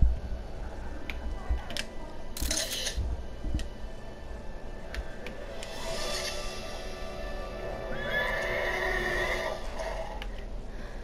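A wild horse in the LEGO Worlds video game neighs in a long, whinnying call near the end, preceded by scattered clicks and taps over a soft ambient bed.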